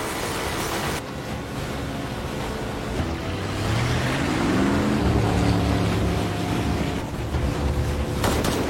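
A getaway boat speeds off with its motor droning steadily and loudly throughout, rising in pitch partway through as it accelerates, a continuous rumbling engine sound with water noise beneath.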